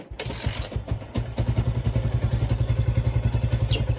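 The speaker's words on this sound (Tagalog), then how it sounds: "So on muna natin yung motor. Kickstart kasi hindi nga to gumagana sa push start." A Yamaha Sniper 150 motorcycle, kickstarted because push start fails, sputters with a few uneven bursts, then catches and settles into a steady, close, chugging idle.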